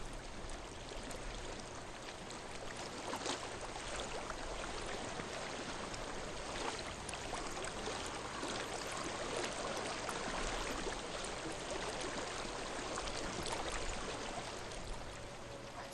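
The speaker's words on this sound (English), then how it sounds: "I hear water. Go to it." Steady flowing stream of water in the video game Hellblade: Senua's Sacrifice, a continuous broadband rushing and trickling that holds an even level throughout with no talk.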